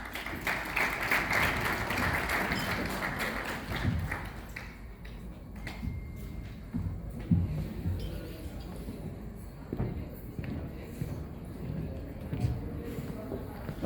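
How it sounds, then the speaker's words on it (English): Audience applause at an APPNA Los Angeles chapter dinner, a dense burst of clapping for the first few seconds that fades as a voice speaks through the rest. "Let's have a round of applause for them."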